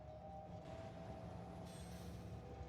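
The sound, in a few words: train moving in Factorio video game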